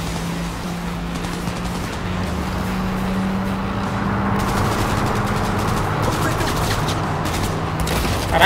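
Heavy gunfire strikes a car during a combat chase in Cyberpunk 2077, a dense, continuous clatter of shots and impacts over a steady engine drone for the whole stretch, with speech faintly mixed in.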